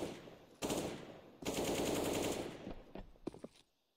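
Counter-Strike rifle gunfire during a competitive match, including wallbang shots through cover: two loud sustained automatic bursts, then a few scattered sharp single shots trailing off near the end.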